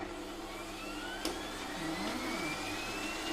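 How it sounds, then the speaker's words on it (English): A stand mixer whisks macaron meringue in a bowl, producing a steady, close motor whir with a broad airy hiss that holds level throughout, with no one talking. "switch off the mixer, undo the whisk, let it drop to the bottom of the bowl and switch it back on again"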